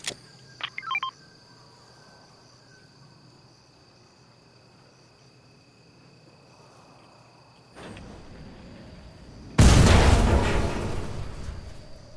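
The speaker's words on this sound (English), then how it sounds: "Oh, I just heard an explosion." A distant boom erupts in a video game after a stretch of quiet ambience with a steady insect-like drone and a few electronic blips, its heavy rumble swelling loudly and trailing off slowly.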